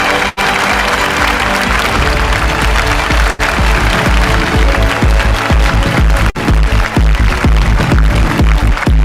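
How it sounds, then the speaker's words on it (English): Audience applauding at a corporate finance awards ceremony, sustained dense clapping from a large crowd, loud and steady for the whole stretch. "Let's give Mayank a big round of applause."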